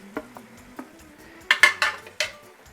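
Onions and pork ribs being stirred in a stone molcajete: a handful of sharp scraping clinks of a utensil against the bowl, sparse at first, then a quicker cluster of four or five close, bright scrapes.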